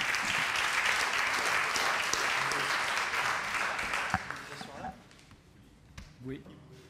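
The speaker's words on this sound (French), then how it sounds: "Merci, vous pouvez les applaudir aussi." An audience at a talk on cultural rights in music schools and conservatories claps loudly for several seconds, then the applause fades out, leaving scattered knocks and movement in a quieter room.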